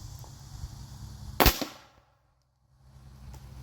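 A single sharp gunshot from a .50 caliber muzzleloader loaded with two 50-grain Pyrodex pellets and a semi hollow point bullet cracks loudly outdoors, then quickly fades to near silence.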